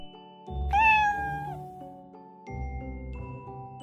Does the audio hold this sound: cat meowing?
yes